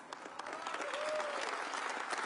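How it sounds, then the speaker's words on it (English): A round of applause from an audience gathered at the opening of a carpenters union skilled-trades training center in Detroit, steady dense clapping filling the whole stretch at an even level. "that deserves a round of applause"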